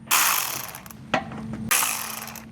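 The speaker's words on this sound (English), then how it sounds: "now we're going to remove two 10mm screws here" A hand ratchet works loose 10mm screws on the grille of a 2024 Toyota 4Runner, giving close, loud bursts of rapid clicking in two long runs with a brief pause and a short clack between them.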